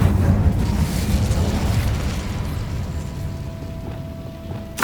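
The Incendio fire spell bursts out in the Hogwarts Legacy video game as a loud, rumbling whoosh of flame that fades gradually over several seconds, ending in a small final pop.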